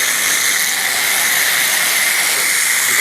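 Nu Calgon TriClean 2X coil cleaner sprays steadily from a Tri-Pow'r sprayer set to clean, making a loud, continuous hiss that holds unbroken for the whole stretch with no talking.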